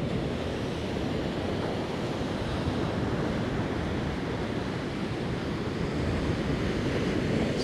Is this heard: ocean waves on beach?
yes